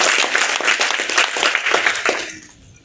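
Audience clapping at a business networking chapter event, dense close applause of many hands that holds steady, then fades out over the last half second.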